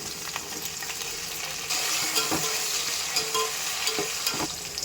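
Ginger and tomato sauté in hot oil, a continuous bright sizzle with repeated spoon scrapes and clicks against the pan, growing a little louder partway through.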